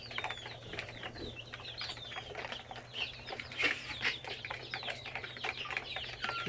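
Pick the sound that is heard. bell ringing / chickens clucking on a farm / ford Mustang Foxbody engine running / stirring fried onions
chickens clucking on a farm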